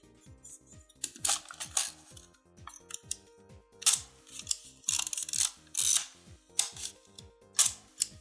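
Film advance lever cranked repeatedly on a Fuji GSW690III medium-format camera, a series of close ratcheting clicks and whirring strokes in an irregular rhythm, with no talking.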